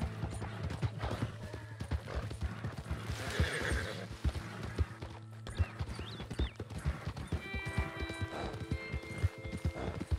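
A horse in the Red Dead Redemption 2 video game neighs and whinnies while its hooves clip-clop steadily and fairly close, with game ambience underneath and no talking.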